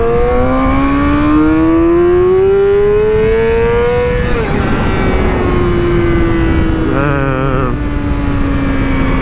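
A 600cc supersport motorcycle engine revs loud and close, its pitch climbing steadily to a high scream, then dropping before a quick extra blip of the throttle.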